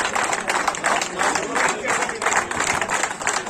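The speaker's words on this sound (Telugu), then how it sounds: "చప్పట్లు ఆగద్దు సన్మానం అయిపోయేంత వరకు చప్పట్లు ఆగద్దు దయచేసి" Sustained applause from a seated crowd at a school alumni reunion felicitation ceremony, dense steady clapping with rhythmic surges and a low murmur of voices underneath.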